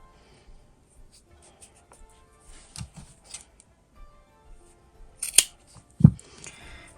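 Scissors cut a length of fabric in half for a sewing project, giving a few quiet snips and rustles before one sharp, close cut near the end, with no talk.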